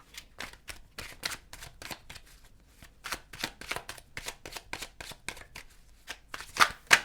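Tarot cards being shuffled for a reading, a rapid series of crisp riffling bursts and soft slaps repeating close up, growing louder toward the end, with no voices.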